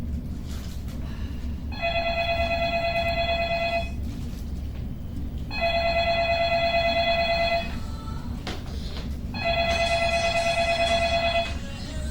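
An old-style telephone bell rings in three separate bursts, each about two seconds long with short pauses between them, loud and close over a low background hum.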